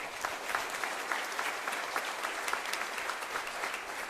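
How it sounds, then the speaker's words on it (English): Audience applause at a high school college signing ceremony, a steady wash of many hands clapping at moderate distance with no voices on top, holding evenly for a few seconds. "So a big round of applause for that as well"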